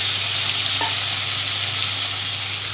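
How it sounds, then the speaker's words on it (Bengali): Onion, green chili and potato frying with cumin in a little oil, a steady, close, loud sizzle that holds evenly throughout with a faint stir partway through and no voices. "তো এই তো পেঁয়াজ আর আলুটা একটু ভাজবো"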